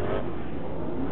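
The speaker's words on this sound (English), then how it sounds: "Pace truck going out there." Pace truck pulling out onto an off-road race track at the Lucas Oil Off Road Regionals at Wild Horse Pass, its engine revving in a steady mid-pitched roar, close and continuous.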